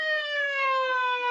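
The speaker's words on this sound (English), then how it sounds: "Then, the piercing sound of sirens" A steady electronic siren wails alone, loud and close, with a clean sustained tone that slides slightly in pitch over about a second and a half, used as a sound effect in a narrated story.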